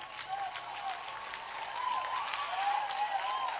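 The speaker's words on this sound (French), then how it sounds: "Si tu veux acclamer, il faut bien acclamer." Members of a church congregation clap and cheer continuously, the applause swelling slightly toward the end, with voices calling out over the crowd noise.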